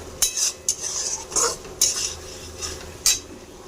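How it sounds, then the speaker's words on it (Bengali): A spoon scrapes and clanks around a pan as chili sauce and tomato sauce are stirred into spices, several loud rhythmic strokes over a low sizzle, close, with no voices. "চিলি সস, টমেটো সস ভালো করে মশলার সাথে কষিয়ে নেব।"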